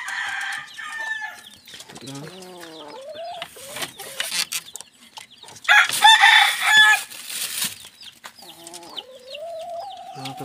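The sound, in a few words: rooster crowing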